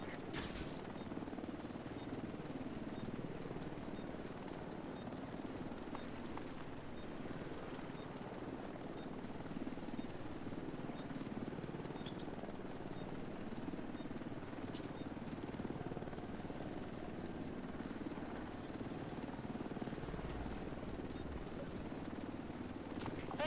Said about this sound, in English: Helo is headed back.